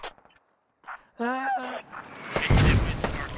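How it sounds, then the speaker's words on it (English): Mortar rounds explode in the video game Operation: Shockwave as a loud, rumbling burst of blasts. It rises suddenly after some short calls and stays heavy to the end, with voices speaking over it. "Mortars! I forgot they got mortars!"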